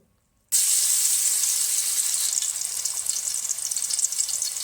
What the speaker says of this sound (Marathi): याच्यामध्ये आलं लसूण हिरवी मिरची कोथिंबीरची पेस्ट आहे ते तेलावर शिजून घेऊ आपण